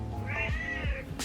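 A house cat meows once indoors, a clear drawn-out call heard close up, with soft thumps of a door being pushed open around it and no talk.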